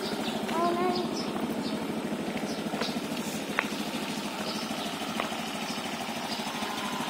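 Honda Genio motorcycle engine idling in the morning, a steady, close low rumble that stays even throughout, with people chatting faintly over it.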